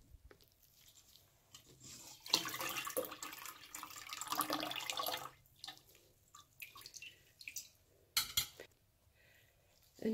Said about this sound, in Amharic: እንደገና ውሃውን ደፍቼ እለቀልቀዋለሁ